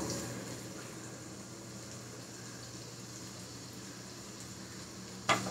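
Onion frying in a little hot oil in a pan for paneer paratha, a steady soft sizzle and crackle running throughout, ending with a brief sharp clack.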